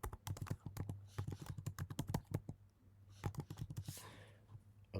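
Quick bursts of typing on a computer keyboard, close and moderately soft, with clustered key clicks, brief pauses and an uneven rhythm.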